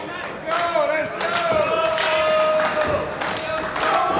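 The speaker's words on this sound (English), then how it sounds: "The crowd cheering Morrison on as he climbs to the top rope for that heat-seeking missile" A live independent wrestling crowd cheers and claps as a wrestler climbs to the top rope, loud and sustained with scattered shouts, while a commentator talks over the noise.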